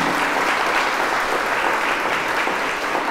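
Audience applause in a lecture hall before a talk on world strategic order, dense steady clapping from a large crowd held at even loudness for the whole stretch.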